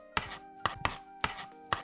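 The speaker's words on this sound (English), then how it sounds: "cut the ginger into smaller pieces" A knife cuts ginger into smaller pieces on a board, five crisp, close chops at an uneven pace with short gaps between them.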